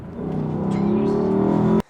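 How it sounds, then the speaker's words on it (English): A Lexus LC500 V8 revs hard while driving and downshifting, a loud, steady engine roar that builds for nearly two seconds before cutting off abruptly. "so you can hear that engine sound as well. V8, last of its kind, definitely. I'm gonna down gear once and then."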